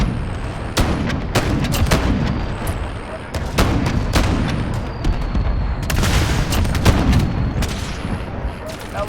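Cruise missile strike in Call of Duty: Modern Warfare, a run of heavy explosions and sharp gunfire bursts, loud and near, with sporadic booms, a few separate cracks, and a voice talking.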